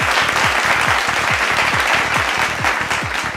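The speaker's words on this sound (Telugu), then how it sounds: "ఆహ్వానిస్తున్నాం సగౌరవంగా, గట్టిగా చప్పట్లతో." Audience at a film music launch event breaking into loud, dense applause, sustained clapping from a large crowd filling the hall without pause.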